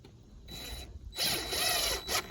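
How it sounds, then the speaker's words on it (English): Screws are driven into the back of a wooden shutter, with short whirring bursts of a power driver and ratcheting, grinding mechanical noise up close, separated by brief pauses. "screwing them in from the back side of the shutter"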